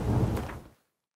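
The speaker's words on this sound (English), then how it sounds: "It's raining in Toussaint!" Rain falling in the Toussaint region of the video game The Witcher 3: Blood and Wine, a brief wash of steady hiss with a soft low rumble that fades out within a second.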